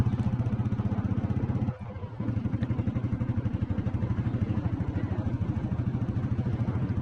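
An old petrol Royal Enfield Bullet motorcycle engine runs close by with a steady, rhythmic thumping idle, briefly dipping in the middle before resuming its even beat.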